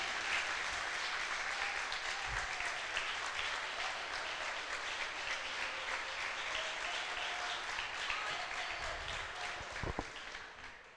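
A church congregation applauds throughout, a dense steady wash of clapping with faint voices and brief louder bursts near the end.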